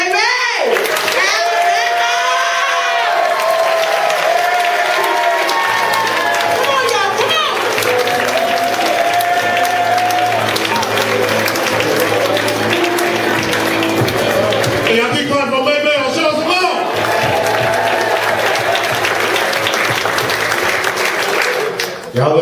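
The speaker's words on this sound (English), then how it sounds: "Ladies and gentlemen, y'all go ahead and start clapping now." Comedy club crowd at the Baltimore Comedy Factory claps and cheers loudly and continuously as a performer takes the stage, with voices and music mixed into the steady roar of the audience.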